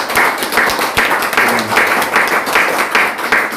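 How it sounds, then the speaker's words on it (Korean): A lecture-hall audience gives a big round of encouraging applause for a talk on Chun Doo-hwan's leadership, dense steady clapping near and loud throughout with no voices over it. "그러기 위해서 한번 큰 서로 격려의 박수 하겠습니다"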